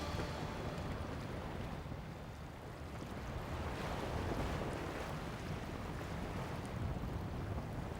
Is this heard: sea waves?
yes